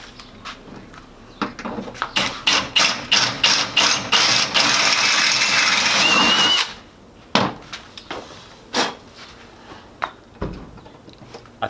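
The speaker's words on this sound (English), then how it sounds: "So I'm going to drill them out" A power drill bores out holes for a hatch installation, with a sustained whirring run of several seconds preceded and followed by sharp knocks and clatters of tool handling, close and loud.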